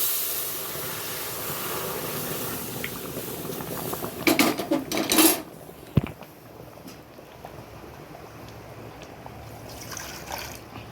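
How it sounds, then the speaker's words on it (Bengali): Panch phoron and dried chillies tempering in hot oil for sour dal, a steady sizzling hiss with a louder crackling burst in the middle and a sharp pop, then settling back to a quieter fry. "পাঁচ ফোড়ন দিয়ে দিচ্ছি শুকনো লঙ্কা দিচ্ছি"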